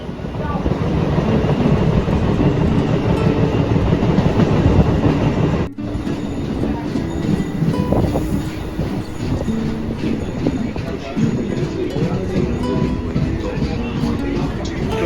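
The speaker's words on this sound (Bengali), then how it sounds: "নৈহাটি ট্রেন চলে এসছে।" A Naihati-bound local train running, heard from inside the carriage, with a loud steady rumble, rhythmic wheel clatter and occasional squeals throughout, and a brief drop in level partway through.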